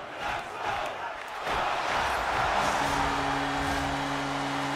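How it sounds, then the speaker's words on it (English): A large home crowd in the NHL 24 hockey video game roars and cheers, swelling louder partway through, with a sustained horn-like tone joining near the end. "it really gets the home crowd kind of riled up"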